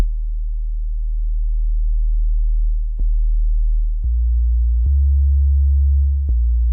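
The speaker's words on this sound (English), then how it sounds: "Let me bring in the sine wave. And let's give it some low end." A steady, deep sine tone from the LEWD Kontakt synthesizer with heavy low end holds throughout, shifting pitch in a few abrupt steps marked by faint clicks.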